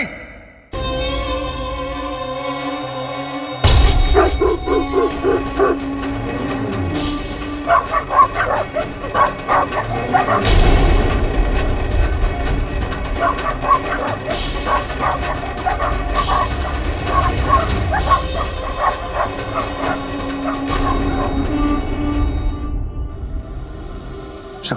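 Dogs bark and yip repeatedly in a drama scene, the sharp barks coming in quick bursts over a bed of music, fairly loud and near, with some whimpering mixed in.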